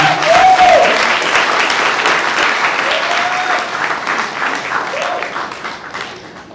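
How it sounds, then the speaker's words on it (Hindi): Audience applauding loudly and steadily after a devised Hindi stage play, a dense wash of clapping that fades slightly toward the end, with brief bits of voice underneath. "तो इन सब के लिए एक बार फिर से जोरदार ताली देते हैं।"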